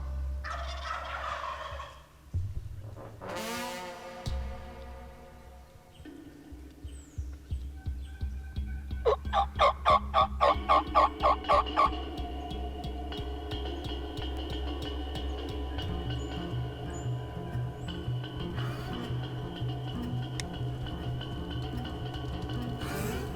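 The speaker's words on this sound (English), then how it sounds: "One come by first and he gobbled" Wild turkey toms gobbling, several loud rattling gobbles close by with a rapid pulsing burst in the middle, then a steady droning hum continuing underneath to the end.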